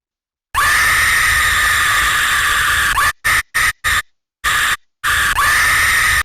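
A loud, sustained scream from the video game Sprunki, cutting out abruptly into several short choppy bursts with gaps before resuming as a long, steady cry to the end.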